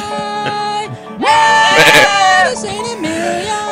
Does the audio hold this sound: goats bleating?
yes